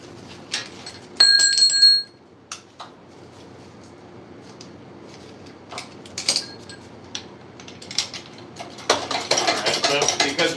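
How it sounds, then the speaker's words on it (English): Screw jacks cranked by hand to press skateboard veneers in a workshop, giving scattered ratcheting clicks and metallic ticks, a short ringing tone early on, then a dense burst of grinding mechanical rasping near the end, with no talk. "I just pretty much go until both jacks can hold my body weight."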